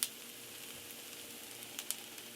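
Onions browning in a skillet give off a faint, steady sizzle, with a sharper pop at the start and a couple of small crackles near the end. No voices are heard.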